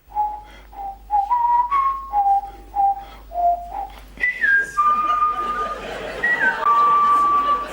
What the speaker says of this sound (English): We do actually have a tape of them whistling.